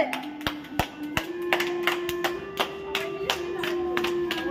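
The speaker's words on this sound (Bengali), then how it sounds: "দে হাততালি দে জোরে জোরে" Several people clap their hands at a science city in Digha, sharp irregular claps ringing out over a steady tonal hum, with a voice or two calling between them.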